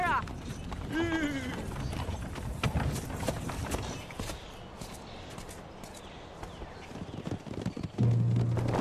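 Horse hooves clip-clop in a forest setting during a bandit attack, a steady, fairly faint trotting rhythm mixed with background movement and clatter.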